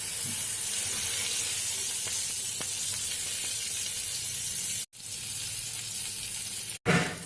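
Egg paturi wrapped in bottle gourd leaves fries in hot oil after being flipped, a loud steady sizzle that carries on throughout, broken by two abrupt brief cutoffs near the end.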